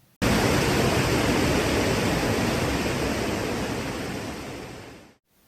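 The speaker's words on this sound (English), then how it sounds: "but by a roaring river." Roaring river at Victoria Falls, a dense, loud, continuous rush of water that starts abruptly and holds steady for about five seconds before cutting off.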